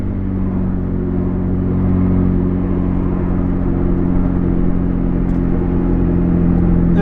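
Toyota Tacoma V6 with a straight-pipe exhaust, a loud, close, steady droning rumble with strong low harmonics, holding near one pitch with a slight swell partway through.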